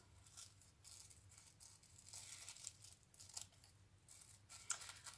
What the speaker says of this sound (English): Now you can cut whatever shapes you want. I'm going to cut some triangles.